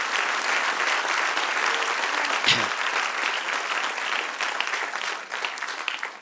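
A church congregation applauds during a Sunday sermon, a thick, sustained wash of many hands clapping at moderate loudness, with one brief thump partway through and a slight fade at the end.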